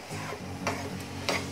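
A gram-flour (besan) curry fries in a pan with a low, even sizzle and bubbling, broken by two or three short clinks of a spoon against the pan; no voices.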